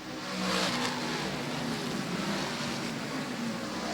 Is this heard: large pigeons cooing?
no